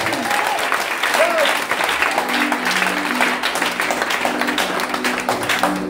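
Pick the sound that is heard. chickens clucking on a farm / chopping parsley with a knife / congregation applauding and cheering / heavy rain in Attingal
congregation applauding and cheering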